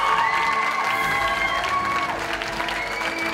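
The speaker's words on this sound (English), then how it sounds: "give these guys a massive round of applause as they leave the stage" Audience applause and cheering fill a hall at a Teen Star singing contest area final in Birmingham as contestants leave the stage, with a steady dense roar of clapping and whoops throughout and a tonal musical bed underneath.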